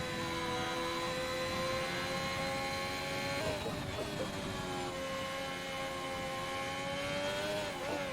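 Onboard engine of a Ferrari race car in a sim racing game at Shanghai International Circuit, a loud, steady high-pitched whine that dips briefly on a shift or lift and then climbs again, running continuously.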